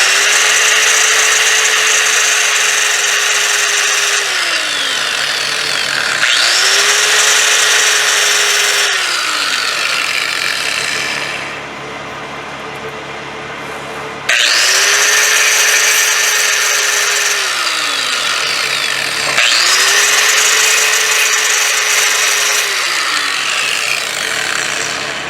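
A power grinder dresses the cut end of a PTFE hose straight, sounding in four loud, steady bursts that each spin up, hold a high whine, then wind down, with a short quiet break near the middle.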